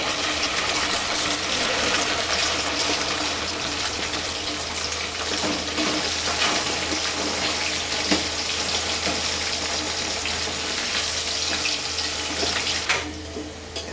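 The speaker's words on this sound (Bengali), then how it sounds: "এখন আমি একটা পাত্রে তেল গরম করে এই চিকেনগুলোকে ভেজে নিব।" Chicken pieces fry in hot oil in a pot, giving a dense, steady sizzling hiss that stays loud and even throughout.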